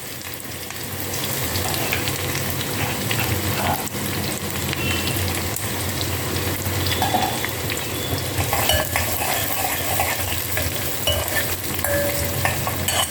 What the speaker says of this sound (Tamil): இந்த வெங்காயத்தை போடுறேன்.